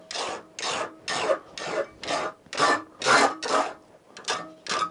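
Crosscut hand file rasping along the edges of a metal lock plate for a Winchester-style lock, about ten rhythmic back-and-forth strokes, close and clear with no talk.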